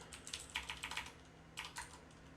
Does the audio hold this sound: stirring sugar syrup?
no